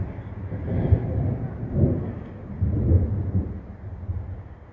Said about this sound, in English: We've got some thunderstorms rolling through